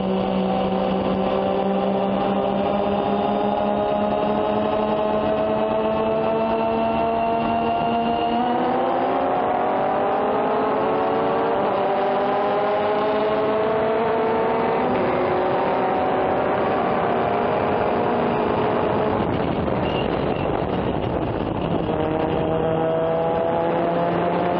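Race cars at the start of a race at Willow Springs, engines loud and constant from close range as they rev and shift up through the gears, with no speech.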